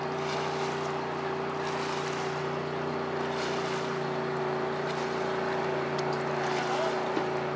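A 1.6 litre hydroplane racing boat engine drones steadily at a distance on a lake race course, a constant buzzing tone with wind noise on the microphone.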